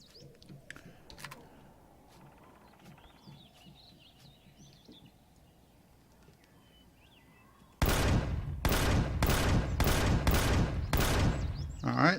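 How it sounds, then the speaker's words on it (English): Many fireworks going off, first faint and distant behind quiet ambience, then a rapid run of about eight loud sharp bursts in quick succession. "I don't know if you guys can hear the fireworks in the background,"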